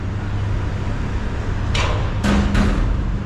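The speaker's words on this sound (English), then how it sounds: "Excuse that noise, people. It's just some construction going on over here." Construction work on a building addition in downtown Omaha, heard as a few sharp metallic bangs like hammer strikes over a steady low rumble of city and machinery noise.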